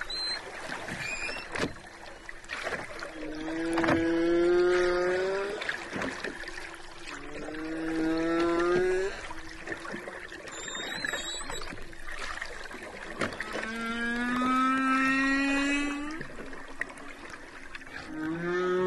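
Humpback-style whale song recorded about 10 miles offshore near Bermuda over deep water: long rising and falling moans and whistles in drawn-out phrases, faint and distant beneath a steady wash of water and boat noise.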